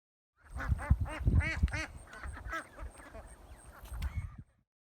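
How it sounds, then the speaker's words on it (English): Ducks, one week old, quack in a noisy cluster in a rice paddy, several overlapping nasal calls at moderate distance, quieter and scattered toward the end. "We introduce 1-week-old ducks 1 week after transplanting"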